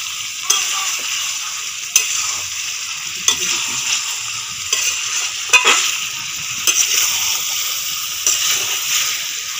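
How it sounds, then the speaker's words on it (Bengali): Mutton fat being stirred into chicken frying in a pan: a steady bright sizzle broken by repeated scraping strokes of a spatula against the pan, close and loud, with no talking. "খাসির চর্বিটা মাংসের সাথে ভালো করে মিশিয়ে দিই।"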